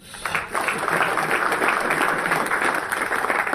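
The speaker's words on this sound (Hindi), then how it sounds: "जोरदार तालियां होनी चाहिए।" A crowd breaks into loud, sustained applause, dense clapping filling the room from start to finish.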